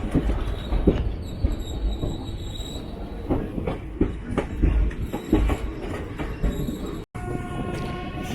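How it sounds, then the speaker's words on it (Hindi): Lucknow Barauni Express pulling out of Barabanki Junction, heard from on board: steady rumble of carriages with rhythmic wheel clatter and intermittent high metallic squeal from the wheels throughout. "ट्रेन अब बाराबंकी से निकल रही है अपने राइट टाइम से लगभग 20 मिनट की देरी से बाराबंकी जंक्शन से रवाना होते हुए"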